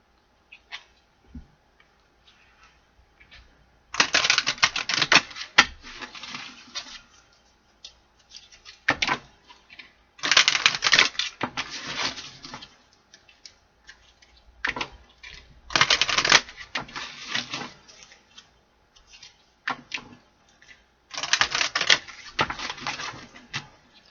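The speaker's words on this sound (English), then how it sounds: "So I'm going to start to shuffle" Oracle and tarot cards are hand-shuffled in four separate bursts of rapid riffling and flicking, each a few seconds long, with quiet taps and handling between them and no talk.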